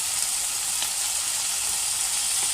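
Vegetable spring roll filling fries in a pan after vinegar and soy sauce go in, giving a steady, close, hissing sizzle that holds evenly throughout, with no voices.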